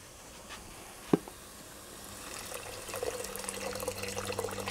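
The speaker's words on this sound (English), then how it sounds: "So what I need to do is add some water at this point." Water is poured into a pot of peanut butter chicken, a soft single knock first and then a rising, steady trickle and splash that continues for about two seconds, close and moderately quiet with no talking.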